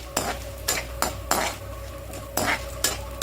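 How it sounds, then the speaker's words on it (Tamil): Cashew nuts are sautéed and stirred in a pan until golden for coconut rice. A spoon clinks and scrapes against the pan in irregular strokes, with a faint sizzle underneath. "இது ஓரளவுக்கு கோல்டன் ப்ரௌன் வர வரைக்கும் நீங்கள் இப்படி வதக்குங்க."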